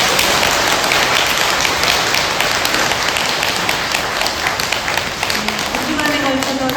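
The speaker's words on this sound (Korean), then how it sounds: "다시 한번 큰 박수 부탁드립니다" Church audience applauding after a Bible lecture at a Catholic parish, a steady, close wash of clapping through most of the clip, with a voice starting to speak near the end.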